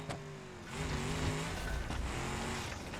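A simulated engine in the BeamNG.drive game on a new offroad vehicle climbs to an over-rev, a loud sustained whining roar that rises in pitch and stays high, steady and close throughout.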